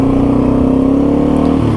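An airboat crosses lake ice on Lake Superior, its engine a loud, close, sustained roar holding one steady pitch before shifting near the end.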